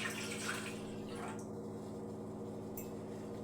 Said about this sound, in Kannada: ಕಪ್ಪಿಂದ ಒಂದು ಕಪ್ ನೀರು ಹಾಕ್ತಾಯಿದ್ದೀನಿ